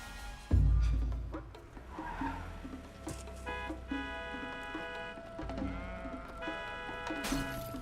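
Several sheep bleat loudly in turn, with a thump at the start and wavering cries repeating through the scene over a low rumble.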